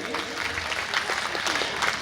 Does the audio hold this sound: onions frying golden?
no